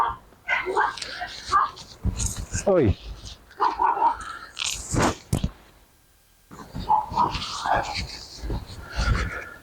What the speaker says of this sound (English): my dogs are fucking attacking